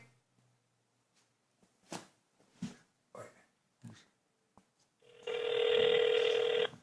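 A phone call rings out over a speakerphone: a few soft clicks and taps, then one loud, steady electronic ring tone that lasts about a second and a half near the end.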